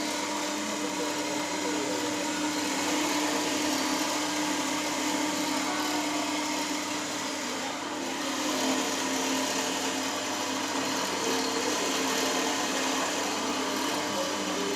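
Drilling machinery in a shoe factory in Jaffna, Sri Lanka, a steady continuous mechanical whine and hum, with no clear breaks.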